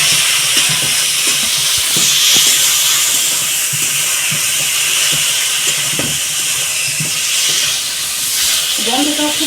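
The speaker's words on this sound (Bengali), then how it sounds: "তো এবার আমি এর মধ্যে জল দিয়ে দেবো।" Water poured into a pot of frying mutton, a village-style home recipe, sets off a loud, steady sizzle and hiss of steam with soft stirring knocks underneath.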